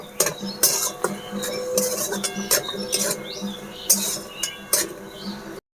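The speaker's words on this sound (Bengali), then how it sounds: "মশলার সাথে আলুটা ভালো করে আমি মিশিয়ে নেব।" Boiled potato mixed with spices in a bowl by hand for a spiced paratha filling, giving soft squishing, patting and light clinking in an uneven rhythm, close by and fairly quiet.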